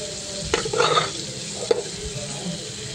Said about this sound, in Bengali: সিদ্ধ করা ডালগুলি দিয়ে দিব কড়াইতে,